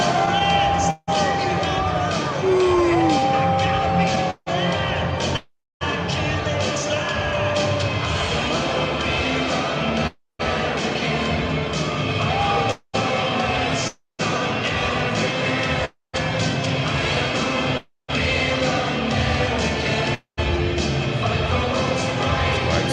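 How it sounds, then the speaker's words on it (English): Thousands in the crowd at the BET Awards boo Fat Joe, a loud, continuous roar of massed voices that is broken by several abrupt silent cuts. "You hear that booing?"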